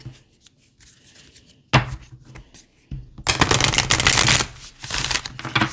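Shuffling a deck of Work Your Light oracle cards, close riffling and flapping in irregular bursts that build into a loud, dense flutter, with faint quiet voices underneath.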